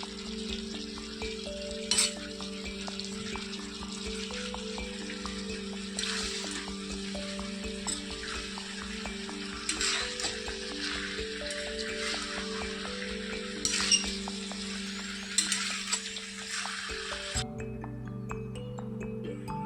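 Soaked onions fry in a pan for chicken kalo bhuna with a steady, moderate sizzle and occasional stirring knocks, while sustained musical tones play underneath throughout.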